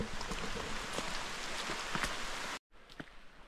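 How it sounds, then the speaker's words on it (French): Steady rain pattering close by in fog on Dominica, a dense wash of drops with a brief dropout near the end before the downpour resumes. "là il pleut, brouillard"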